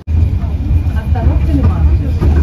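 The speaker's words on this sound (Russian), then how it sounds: "вот едет трамвай" A tram rolls past on a city street, a steady low rumble and mechanical clatter close by, with traffic noise around and a voice talking over it.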